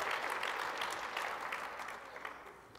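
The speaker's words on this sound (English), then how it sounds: "I'm glad you clapped." Audience applause at a festival closing main stage fills the room as dense, steady clapping from a large crowd, slowly fading toward the end.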